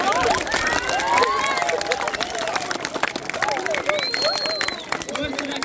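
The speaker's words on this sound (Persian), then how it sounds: "علی مالستانی یک تشویق کنیم" A crowd at a school event for Tawhid Baghra school claps in steady applause for Ali Malestani, mixed with cheering and the babble of many voices, loud and continuous throughout.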